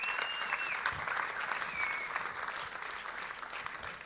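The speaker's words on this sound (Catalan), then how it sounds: "Així que et mereixes un fort aplaudiment" A crowd at a Festa Major proclamation event gives warm, sustained applause, dense clapping that holds steady for about four seconds, with a brief whistle-like tone above it.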